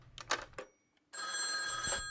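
A telephone rings in one long electric bell burst, loud and steady for about a second, after a woman's brief exclamation.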